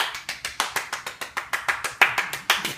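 Clapping rings out for a runner at the finish, about fifteen sharp, evenly spaced claps at a brisk, steady pace, close and clear, with no talk.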